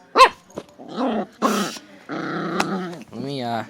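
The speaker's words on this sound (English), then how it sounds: "I'm videotaping my aunt's dog playing with a door stopper" A dog growls and snarls in bursts while playing with a door stopper, the rough growls close and loud with short pauses between them.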